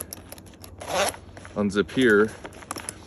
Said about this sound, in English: If you unzip here,